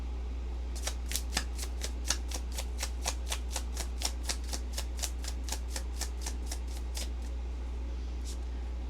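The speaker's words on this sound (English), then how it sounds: "let's just go ahead and pull one of these Shadowland cards here" Shadowland oracle cards are shuffled and riffled from a deck close up, a long rapid run of crisp, evenly spaced flicks that stops abruptly, with one last flick after a pause.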